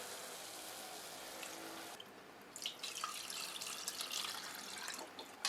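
Buttermilk pours into a pot of Tamil more kuzhambu as a steady, close liquid stream that shifts to a brighter splashing gush partway through, with no talking.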